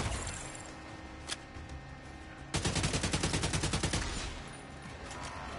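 An assault turret in The Division 2 opens fire in a sudden loud burst of rapid automatic shots lasting over a second, after a single earlier shot, with game ambience around it.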